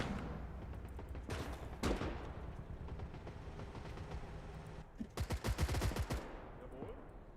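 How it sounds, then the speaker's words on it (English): Gunfire in the World War II strategy game Call to Arms: Gates of Hell, with scattered single shots followed by a loud burst of rapid repeated fire over a steady battlefield rumble. "Looks like we are taking some fire from the Soviets over there"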